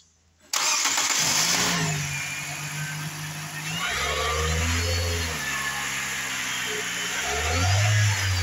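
A 2016 Nissan Sentra S with a 1.8 liter engine cranks and catches, then settles into a steady idle with a few engine note changes and light revs, close and loud.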